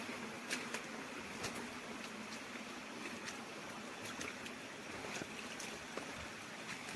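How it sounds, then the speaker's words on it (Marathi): A jungle stream flows in a steady, broad rush of water along a trekking trail after rain, continuous and even throughout, with faint scattered clicks on top and no voices. "ते बघा इकडून पाणी येतं ते."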